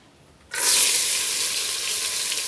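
Onions hit a hot pan for village-style frying of traditional githeri, starting with a sudden loud hiss that settles into a steady, bright sizzle, close up and with no talking.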